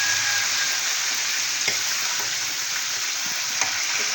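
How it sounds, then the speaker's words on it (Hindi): Chicken pieces fry in hot oil with a continuous, dense sizzle throughout, close and loud, with a few soft stirring clicks and no talking. "चिकन को हमें अच्छी तरह फ्राई करना है। गरम तेल में डालूंगा"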